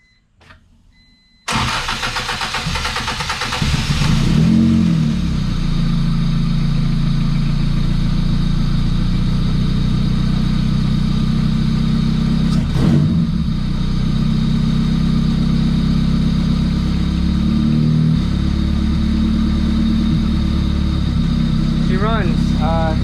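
A Ford EF hatch engine cranks briefly and catches, then settles into a loud, steady, slightly low idle that runs on; people talk near the car.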